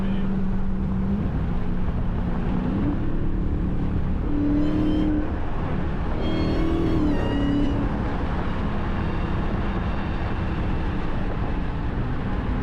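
A cammed, supercharged Dodge Hellcat Charger engine runs loudly with rising, whining pitch as it revs up and eases off, supercharger whine over a rumbling drone.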